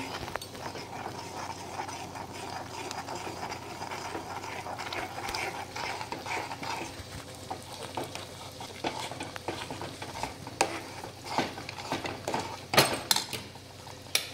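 Thick flour batter being stirred in a pan for zunka, a soft continuous scraping and mixing with light clinks of a spoon against the metal, steady throughout and fairly quiet.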